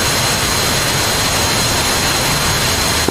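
Jet engines at full throttle in the flight simulator DCS World, a loud, steady, broadband roar with a faint high whine, filling the whole stretch without letup or voices.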